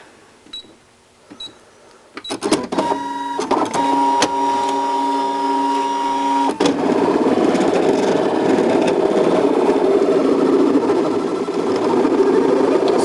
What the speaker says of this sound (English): we're going to try to cut out 2 of these without blowing my machine completely up